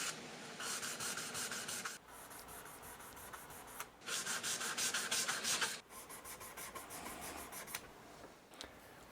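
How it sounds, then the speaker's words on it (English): Guitar frets polished by hand with 2400 grit micro mesh, a close, steady rubbing rasp in repeated strokes of about two seconds each, separated by brief pauses, with no talking. "We're going to move up to 2400 grit micro mesh and do the same thing."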